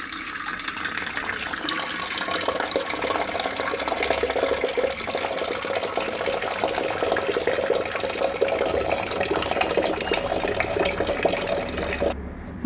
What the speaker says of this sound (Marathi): त्याला आता स्वच्छ धुवून घेणार आहे। त्यानंतर स्वच्छ धुवून घेतल्यावर त्याच्यामध्ये मी पाणी घालून घेणार आहे।